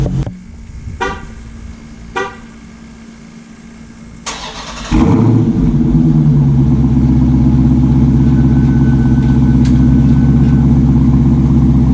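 A few faint clicks, then a 2019 Dodge Charger Scat Pack with a Borla S-Type catback exhaust and active exhaust cranks on remote start and catches, settling into a loud, steady idle with a deep exhaust rumble.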